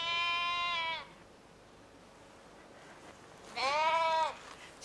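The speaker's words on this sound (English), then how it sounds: "She's at a sheep farm in Wales." Sheep and lambs on a farm in Wales bleat nearby, two clear wavering calls separated by a quiet stretch of soft outdoor background.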